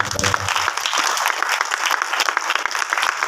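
Congregation at a church meeting in Rajnandgaon claps together in thanks, with brisk, crisp hand claps in a busy, close rhythm following a brief bit of voice at the start.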